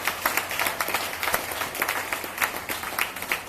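A church congregation at a parish service claps together, producing dense, steady applause that runs loud and unbroken from start to finish.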